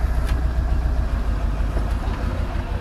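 A rollback truck's engine idles with the PTO engaged, a loud, close, steady low rumble that holds even throughout with no voices.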